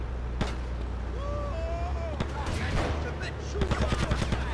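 Gunfire in a Grand Theft Auto game: scattered single shots early on, then a quick burst of rapid shots near the end, over a low rumbling background with voices talking.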